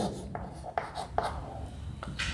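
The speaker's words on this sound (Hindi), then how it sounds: "जैसे अगर मैं लिख दूँ" Pen or chalk writing out a grammar example during a lesson, a faint series of short scratchy strokes in an irregular rhythm, close and quiet with no talk over it.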